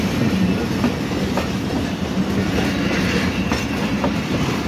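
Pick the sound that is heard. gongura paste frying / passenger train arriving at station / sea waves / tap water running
passenger train arriving at station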